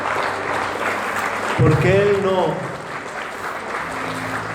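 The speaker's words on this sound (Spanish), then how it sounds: "¿Por qué no le das un aplauso al Rey de Reyes?" A church congregation applauds during an Easter service, a steady wash of clapping throughout with a voice briefly speaking over it midway.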